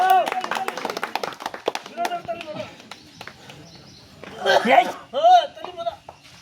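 A crowd claps rapidly and rhythmically for a few seconds, and someone talks loudly over the clapping and afterwards.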